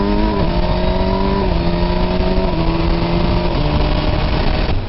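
Kawasaki Versys 1000 SE motorcycle engine heard loud and close while downshifting, its note stepping down in pitch through several gear changes in a steady, continuous roar.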